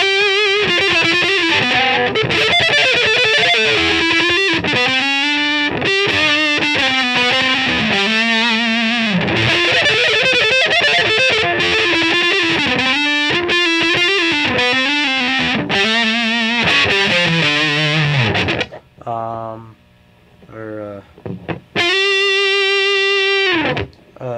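Heavily distorted electric guitar on the neck pickup through a 333XL amp's lead channel plays a lead melody with sustained, singing notes, loud and continuous, with a short pause near the end before a final held note.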